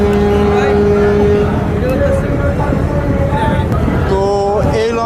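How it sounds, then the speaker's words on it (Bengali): A passenger river launch, a ferry carrying crowds toward Dhaka, pulls away with a steady loud engine drone and sustained horn-like tones; voices are faintly mixed in. "আজকের সেকেন্ড কাট হিসাবে আরও একটি লঞ্চ বের হয়ে যাচ্ছে"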